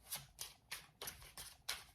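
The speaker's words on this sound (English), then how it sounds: "I have no problem shuffling them like this" Tarot cards from the Hush Tarot deck are shuffled by hand, six soft papery riffles and slides at an even rhythm, quiet and close, with no talking.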